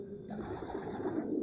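Homing pigeons coo steadily at their loft on a fine morning, a soft continuous murmur of low throaty calls close by, with no talk over it.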